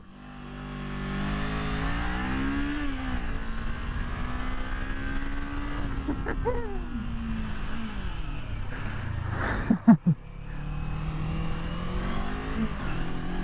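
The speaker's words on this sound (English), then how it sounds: "Let's go and see how my little 44 brake A2 compatible Ninja deals with these roads out on a Sunday blast." A Kawasaki Ninja 500, the 44 bhp A2-compatible version, accelerates hard along winding country roads. Its engine pitch climbs and drops through gear changes, close and continuous, with a couple of sharp bursts near the end.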